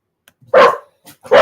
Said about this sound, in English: They're going to bark just a minute because the neighbor man's unloading his truck.